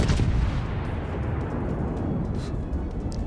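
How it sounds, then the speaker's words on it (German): Main battery shells fired by the battleship HMS Hood in World of Warships, a dense, continuous heavy rumble of gunfire and explosions with a few sharper bursts on top, no voices. "Granaten fliegen auch perfekt."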